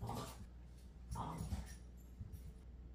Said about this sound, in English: those dogs are getting rowdy.